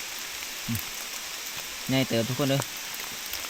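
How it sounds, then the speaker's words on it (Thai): Heavy rain pours down steadily outdoors on a rainy journey in rural Thailand, a broad continuous hiss throughout, with someone briefly speaking over it. "เพราะว่าฝนตกนะ"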